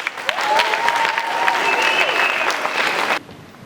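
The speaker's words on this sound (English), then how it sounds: "Give your hands a round of applause." An audience bursts into sustained applause at an inspirational talk, a dense, even wash of clapping that holds steady for about three seconds before cutting off abruptly.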